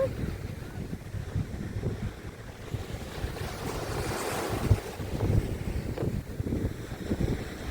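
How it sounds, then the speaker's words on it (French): Waves wash steadily onto a white-sand beach on the west coast near Sagres, with wind buffeting the microphone in a continuous soft roar and a few louder surges. "Nous voici sur la plage."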